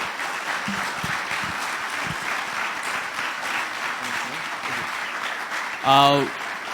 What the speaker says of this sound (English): let's give Michael another round of applause